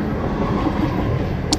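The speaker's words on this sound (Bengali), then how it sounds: "দেখতেই পাচ্ছেন ট্রেন যাচ্ছে, এটা হচ্ছে বেলডাঙ্গা" A train on the Lalgola–Sealdah line rumbles past at Beldanga, a loud, close, continuous roar of wheels on rail with faint clatter and a brief high squeal near the end.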